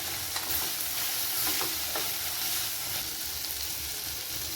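Cinnamon, cloves, black pepper and star anise dry-roasting in a pan for a matar paneer masala, heard as a steady bright sizzle with a few soft stirring scrapes.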